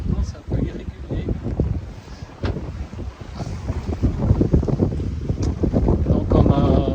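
Gusts of around 20 knots buffet a sailing boat at sea off Greece. Heavy low rumble of wind on the microphone rises and falls irregularly and grows stronger toward the end, with water noise beneath. A voice speaks over it.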